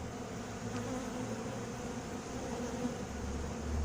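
Honeybees droning steadily at an open horizontal Kenyan-style top-bar hive, a continuous low buzz of many insects holding for a few seconds, fairly close and without voices.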